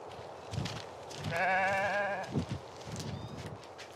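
Goats kept by a coastal fishing family in the Americas bleat, with one wavering, drawn-out bleat in the middle and a few softer calls around it, moderately distant.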